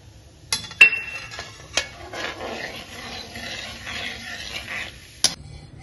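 Roasted gram is tipped into hot oil and stirred for poha chivda, giving a soft continuous sizzle under scraping spoon strokes, with a few sharp metallic clinks against the pan at the start and end.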